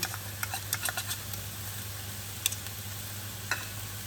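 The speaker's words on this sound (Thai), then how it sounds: "เราจะผัดจนกว่า จะแห้งนะคะ" Minced pork stir-fried without oil in a wok with curry paste for khua kling, cooked down until dry: a steady soft sizzle with scattered scraping and tapping clicks of the spatula, close by and without talk.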